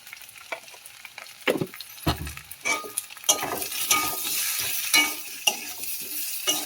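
A spice masala with turmeric, chili powder and salt is sautéed in a pan, with a loud close sizzle broken by repeated scraping and stirring strokes of a utensil against the metal.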